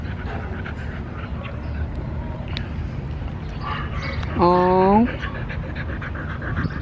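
A dog pants steadily and close over a constant background rumble, with a brief higher whine near the end and a person speaking briefly.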